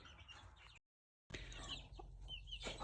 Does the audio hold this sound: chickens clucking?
yes